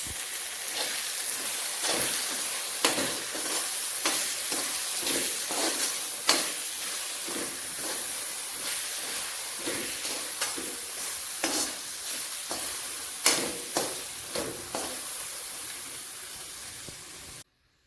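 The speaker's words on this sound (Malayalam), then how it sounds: "1 സ്പൂൺ പഞ്ചസാര ചേർക്കാം. നല്ലതുപോലെ ഇളക്കി കൊടുക്കാം" A spoon scrapes and stirs through a sizzling pan of Kerala ginger and dates pickle after sugar goes in, repeated scraping strokes in a steady rhythm over a continuous frying hiss, close and clear.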